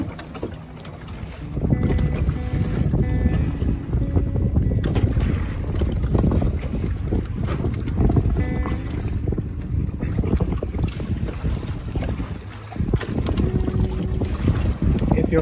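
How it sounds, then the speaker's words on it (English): Strong wind buffets the microphone aboard a sailing dinghy on choppy sea in a bay, with a constant loud roar of gusts and water slapping against the hull, no voices heard. "The wind has really kicked up the chop."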